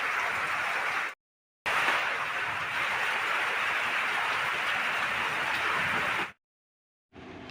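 Rain during a night-time cyclone storm, a steady broadband hiss of rainfall that cuts out abruptly twice, leaving brief silences before resuming.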